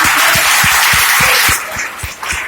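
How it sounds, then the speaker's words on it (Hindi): An audience bursts into loud, dense applause at a lifestyle business seminar, claps thundering steadily before thinning and fading toward the end. "जोरदार तालियों के साथ"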